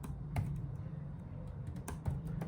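Python code being typed on a computer keyboard, a few sparse, crisp key clicks spaced irregularly over a low steady room hum, close and fairly quiet, with no talking.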